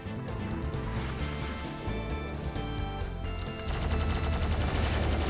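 A plasma gun fires in a dense rapid stream in the video game Doom II, loud and continuous over pounding game music, intensifying toward the end with no talk.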